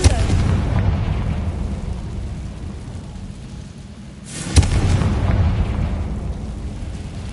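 A Confringo blasting spell explodes in Hogwarts Legacy, a single sharp boom near the middle that rises out of a steady low rumble of game ambience.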